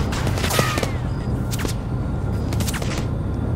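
Heavy gunfire and missile strikes pound a penitentiary in the BlackLight-era Warhound shooter campaign, a dense, continuous roar of shots and booms with several sharp bursts, steady and loud throughout with no talk.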